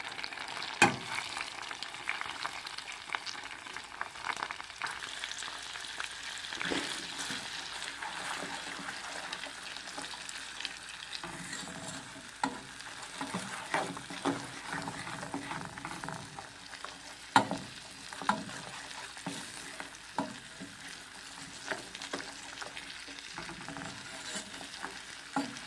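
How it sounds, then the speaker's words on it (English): Onion and leeks frying in a pan, a continuous sizzle with repeated stirring scrapes and occasional sharper clicks throughout, close and fairly quiet. "So into the pan goes our onion and our leeks."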